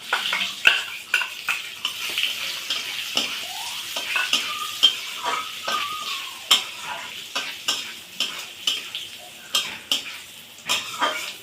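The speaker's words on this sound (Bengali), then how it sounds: "ভাজা আলুগুলো দিয়ে একটু নেড়ে চেড়ে আরেকটু কষিয়ে নেব" Fried potatoes stirred through thick frying masala for a mixed fish curry: a rhythmic series of spatula scrapes and clinks against the pan, one after another at close range, over a soft sizzle.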